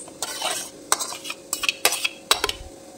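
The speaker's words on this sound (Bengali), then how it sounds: "এগুলো এবার ব্লেন্ডারের মধ্যে নিয়ে নেব।" Cooked tomatoes and dried red chillies being scooped from a pan into a blender, with a run of close metallic clinks and scrapes of a spoon against cookware.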